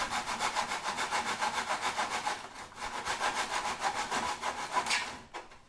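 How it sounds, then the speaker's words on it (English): A hand saw cuts through plywood in steady back-and-forth strokes, a rhythmic rasping scrape repeated at a fast, even pace with a brief pause midway before the sawing resumes and then stops, close and fairly loud. "It takes a lot of effort to cut through."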